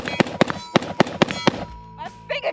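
A Daniel Defense MK18 AR pistol fires a rapid string of about seven sharp shots at a shooting range, loud and close, followed by a brief voice.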